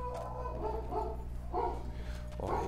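A pet dog barks repeatedly at home in a run of loud, uneven yelps and barks over a steady low hum, with a heavier burst near the end.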